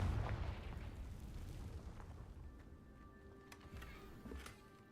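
A fiery blasting spell goes off in a video game, opening with a heavy booming burst that quickly fades into a low rumbling tail with scattered crackles.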